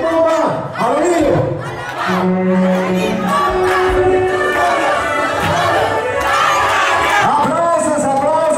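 Wedding guests shouting a rhythmic group cheer for the newlyweds at a celebration in Hueytexoloc, Hidalgo, a loud crowd chant with voices rising and falling together, close and dense.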